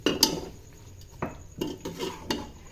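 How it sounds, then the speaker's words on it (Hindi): A metal spoon stirs spices and garlic-ginger paste in a pressure cooker pot, scraping and clinking against the metal in several irregular strokes, close and clear with no talk over it. "थोड़ा सा चम्मच चलाकर हम इसमें पानी ऐड कर देंगे।"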